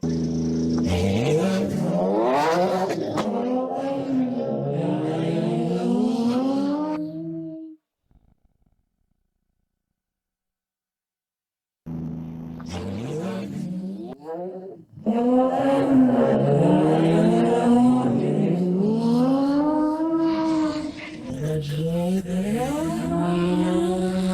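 A race car engine with unstable cylinders revs again and again, its pitch sweeping up and down loudly and close by. It cuts to silence for a few seconds midway, then roars back.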